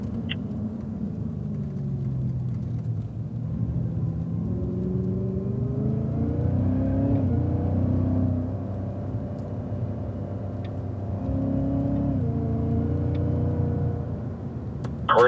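A Cadillac CTS-V accelerates on a race track, its engine droning and climbing in pitch, easing off, then rising again in long muffled swells, as if heard from inside the car.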